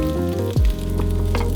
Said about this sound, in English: Stir the sausage around and let it brown for 3 to 4 minutes.